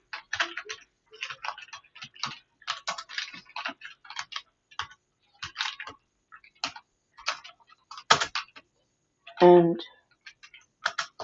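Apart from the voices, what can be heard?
typing on a computer keyboard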